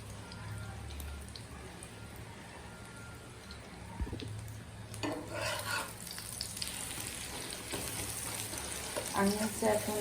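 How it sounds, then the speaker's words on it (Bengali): Two eggs frying in oil in a wok-style pan, a low continuous sizzle with crackles and spatters that grow busier toward the end, heard fairly quietly with some background noise. "এখন আমি 2টি ডিম ভেজে নিব"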